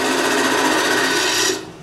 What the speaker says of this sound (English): I'm just nibbling away at the tenon